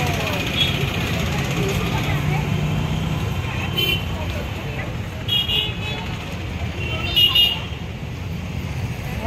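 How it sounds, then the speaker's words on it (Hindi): Busy roadside traffic rumbles continuously, broken by several short horn toots from passing vehicles, with a voice talking now and then over the din. "बहुत ट्रैफिक है इस रोड पे तो।"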